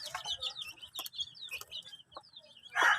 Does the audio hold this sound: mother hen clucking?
yes